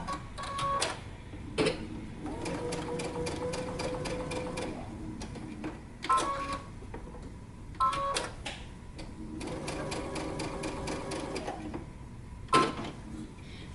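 A sewing machine stitches across the top of a dress placket in bursts of rapid, even mechanical chatter, stopping and starting several times with short pauses and handling clicks between runs.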